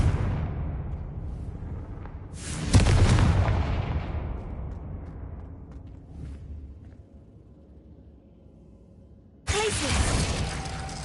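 A Confringo fire spell from Hogwarts Legacy on PS5 bursts with a loud fiery blast that decays into a long rumbling tail, followed by a second sharp burst near the end.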